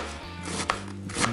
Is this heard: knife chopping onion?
yes